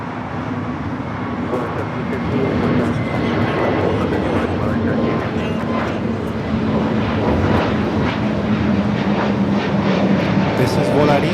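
A Volaris airliner on flight 715 to Guadalajara rumbles with a continuous, fairly loud jet roar and low engine drone at the airport, steady throughout, with faint voices in the background.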